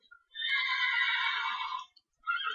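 A horse from the Minecraft Mo'Creatures mod lets out a single clear neigh of about a second and a half, with a short squeal starting again right after it.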